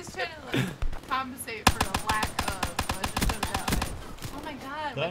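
Rapid pistol gunfire in the video game Black Ops 3, a fast run of sharp repeated shots bursting out midway and continuing for several seconds, with people talking over and around it.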